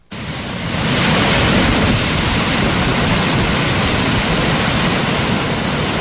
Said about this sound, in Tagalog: Naglalaki ang alon kasabay ng malakas na ulan